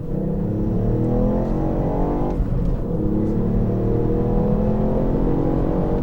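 A 2019 Ford Fiesta ST engine in sport mode revs loudly and continuously from inside the car, its pitch climbing under acceleration to about 4,000 RPM in second gear, dipping briefly at a gear change, then rising again.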